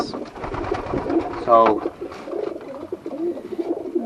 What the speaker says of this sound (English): If you come down to the doves, we do have some news with these.